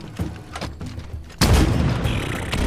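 A rocket explodes in Halo Infinite: a sudden loud, broad blast at mid-clip that rolls on as a sustained roar, after quieter game ambience and faint thuds.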